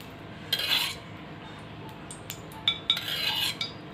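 A kadhai (wok) is set on a home kitchen stove while metal utensils clink and clatter in a few quick bursts, fairly close but soft, with no talk.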